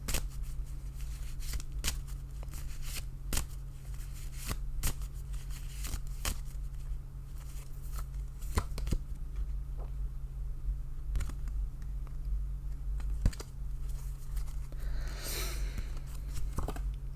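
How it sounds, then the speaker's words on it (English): Tarot cards shuffled in repeated sharp riffling flicks over a steady low electrical hum, close and fairly quiet, with no talking. "I'm being led to shuffle. We're going to pull out 3 more cards."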